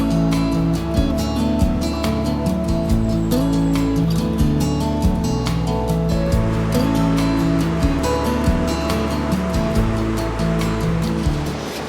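The River Dart flows at Holne Bridge on the edge of Dartmoor in autumn, a loud, steady rush of moving water that fills the whole stretch with continuous noise, with a low tonal layer running underneath.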